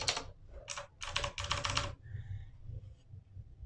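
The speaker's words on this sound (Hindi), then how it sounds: "ये एक मैकेनिकल कीबोर्ड है।" Rapid bursts of key presses on an RGB mechanical gaming keyboard with a steel top plate and plastic base, clustered clacks in quick runs then a pause, close and clear with no talking.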